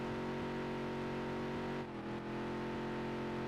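Basic dirt track race car engine revving steadily during a race, loud and close with a strong harmonic drone that dips briefly mid-way before climbing again.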